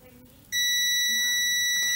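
A multimeter's continuity beep sounds while the probes touch two capacitors on a pool heat pump controller: a steady, loud, piercing electronic tone that starts suddenly partway through and holds, with faint background noise before it.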